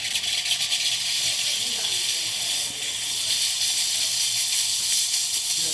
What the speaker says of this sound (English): And that's the steam.